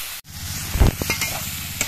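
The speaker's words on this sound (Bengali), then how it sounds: "মশলাগুলোকে আমি 2 মিনিট কষিয়ে নেব।" Whole spices with a splash of water sizzling and being stirred in a pan for a khichuri meal, a steady close hiss with a few scraping stirs and a brief dip near the start.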